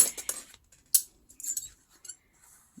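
Scissors snip through paper, trimming around printed apothecary bottle images, a series of close, crisp cuts in short irregular bursts with brief pauses.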